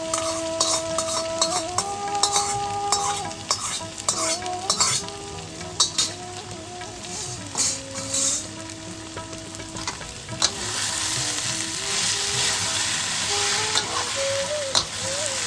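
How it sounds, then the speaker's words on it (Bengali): Spices for tempering hit hot oil for kochu shak ghonto, a steady close sizzle and frying hiss with repeated metal spoon stirring clinks against the pan, growing denser and louder toward the end while faint music plays beneath. "এবার আমরা ফোড়নটা দিয়ে দিই।"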